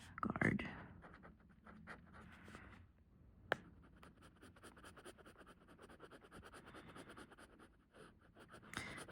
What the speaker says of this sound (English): This is a fine nib, but it is a very nice, juicy fine nib. I find writing with it to be very enjoyable.